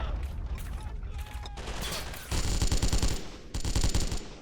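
Rapid bursts of machine-gun and rifle fire crackle in a WW2 strategy video game, with a short pause followed by two dense, loud volleys and no talking.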